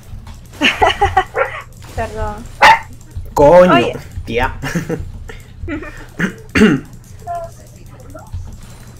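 A dog barks and yips several times at close range, the sharp calls cutting in and out between lively Spanish conversation.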